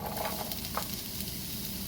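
Steady, close sizzling of onion frying in hot oil in a pan, a constant crackling hiss with occasional brighter pops.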